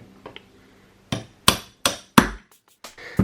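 A hammer drives out the hammer pin of a GHK AR15 (M4-type) gas blowback airsoft rifle during a conversion-kit install: several sharp, close metallic taps in an uneven sequence, with a few lighter knocks before and after.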